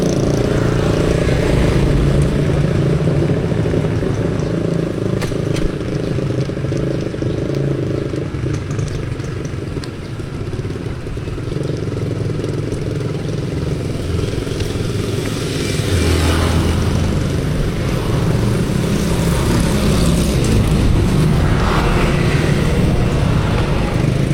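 Heavy road traffic rumbles past continuously, with motorcycles and cars close by, engines revving and droning in overlapping waves, a brief lull midway before the din swells again.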